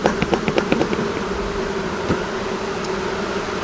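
A relocated honeybee swarm from Meadow View Farms buzzes steadily at the hive. A few soft clicks and knocks come early on, with no voices.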